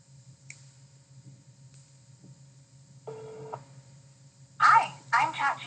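A phone dials a call to an AI assistant line in a series of short tone bursts, with faint background hum and low murmuring under it.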